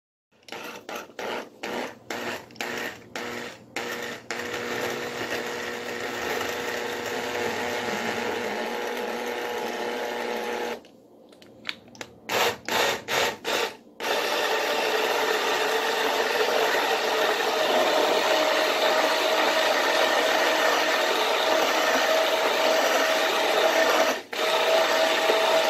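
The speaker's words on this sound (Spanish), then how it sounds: "Así es de que ahorita lo voy a licuar." An electric blender whirs as huancaína sauce is blended, running in short pulses at first, then stopping and starting briefly, before settling into a long, steady, loud grinding run with a brief dip near the end.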